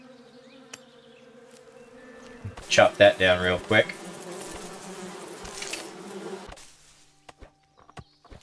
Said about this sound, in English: I think these are the bees here we're looking for.